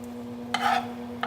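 Pork chops frying in a pan while being basted with sauce, onions and garlic give off a low steady hiss, rising into a brief brighter sizzle burst as sauce hits the hot pan, then again near the end.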